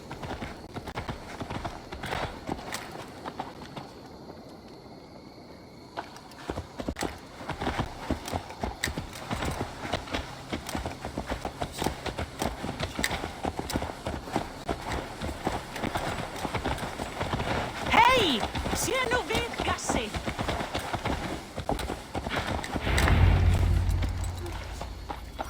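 Horse hooves clip-clop steadily in Assassin's Creed Valhalla, a continuous rhythmic patter through most of the stretch with a brief whinny, game ambience and some speech.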